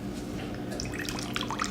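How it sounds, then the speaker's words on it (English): Water drips and trickles from spinach being squeezed and twisted dry by hand over a kitchen sink, a steady wet patter with scattered close splashes and no talking. "so you can squeeze all the water out of your spinach."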